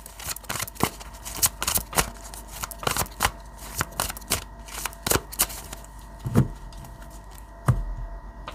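Tarot cards are handled and shuffled up close, giving a series of sharp, crisp snaps and riffles at an uneven rhythm with no speech.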